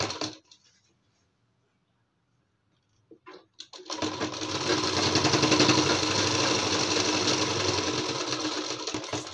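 After a few seconds of near silence and faint handling, a sewing machine starts up and runs continuously, loud and close, stitching along a salwar waistband.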